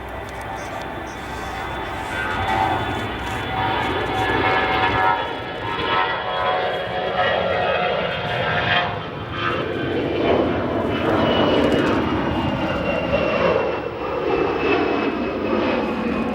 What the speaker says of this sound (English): Those GENX engines slowing down. The 787 will go to a departure.